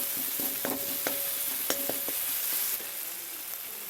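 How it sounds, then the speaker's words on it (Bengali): Chili and turmeric powder frying in oil in a pan, a soft, steady sizzle close by, punctuated by several sharp spatula taps and stirring clicks in the first half before settling into quieter hiss. "দেওয়ার পর এগুলো একটু হালকা করে ভাজা ভাজা করে নেবেন।"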